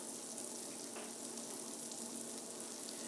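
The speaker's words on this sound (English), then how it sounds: "Our onions are sizzling." Onions sizzle in a pan with a steady, soft crackling hiss that stays even throughout, heard alone without any talk.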